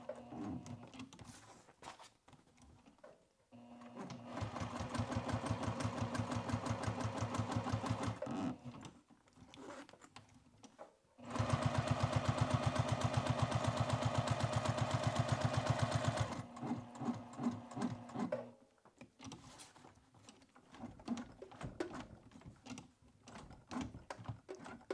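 A sewing machine stitches a fabric box in bursts of rapid, even needle clatter, stopping and starting several times with quiet pauses between runs.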